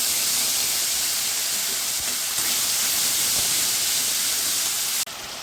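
Ground spice paste for doi potol hits hot oil in a pan, giving a loud, close, continuous broadband sizzle and hiss that drops sharply near the end.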